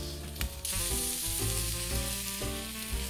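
Prime rib sears on hot grill grates of a Weber Smokey Mountain, giving a loud, steady sizzle and crackle that runs through the whole stretch with no talking.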